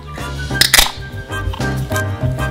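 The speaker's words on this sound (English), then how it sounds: "We open a can of beer" A can of beer cracks open with a sharp, close pop and brief fizz, followed by light clinks and handling noises.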